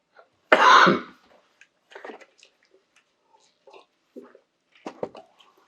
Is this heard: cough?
yes